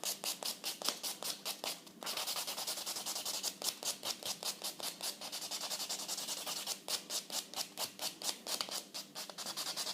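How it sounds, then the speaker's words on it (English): A nail file rasps across the surface of a fingernail in quick, rhythmic back-and-forth strokes, close and fairly quiet, with a brief pause partway through. "So all I'm doing is filing the surface off."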